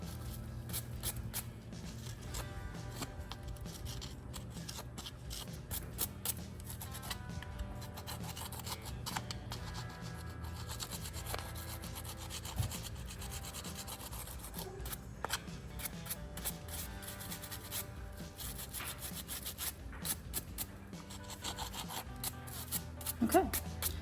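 A hoof pick scrapes dirt and hay out of a horse's hoof in repeated rasping, rubbing strokes, close up and continuous, with faint talk in the background.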